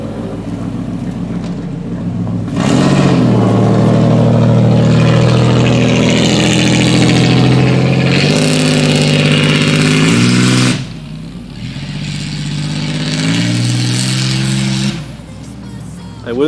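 A 1990 Pontiac 6000 with factory all-wheel drive starts up and runs, its engine droning loudly up close and rising and falling through revs, briefly dropping off before picking up again.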